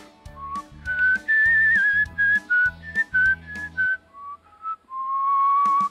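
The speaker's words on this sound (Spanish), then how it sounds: "Y voy a seguir chiflando delicioso." A person whistling a bright, clear melody over a steady rhythmic low accompaniment, the whistled notes close and sustained, sliding between pitches across several phrases with no talking.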